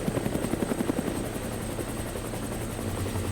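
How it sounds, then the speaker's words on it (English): A helicopter flies over the Palos Verdes Peninsula coastline, its rotor beating in a steady, loud, close thrum that fills the whole moment without talk. "Hence the reason we're flying my helicopter over it right now with 2 experts."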